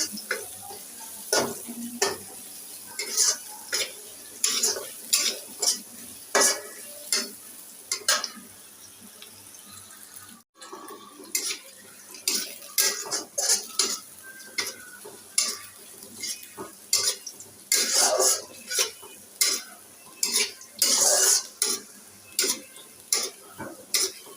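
Onion frying in a pan, a sizzling hiss broken by repeated scraping stirs and clinks of a spatula against the pan, close and uneven in rhythm, with a brief pause partway through.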